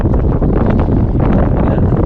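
Loud, blustery wind buffeting the microphone, a continuous rumbling roar that swells and eases slightly throughout.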